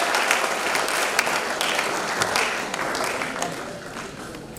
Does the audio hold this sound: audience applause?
yes